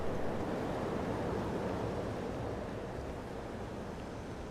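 Waterfall ambience in a Star Wars mod of a space game, a steady broadband rushing wash with no breaks, moderately loud and continuous, with no voices.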